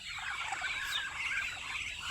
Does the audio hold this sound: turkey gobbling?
yes